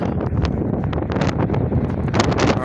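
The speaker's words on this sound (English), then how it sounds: "the wind is picking up" Strong gusting wind at the Hoover Dam bypass observatory, a loud continuous buffeting roar battering the microphone with rushing, flapping surges and no speech.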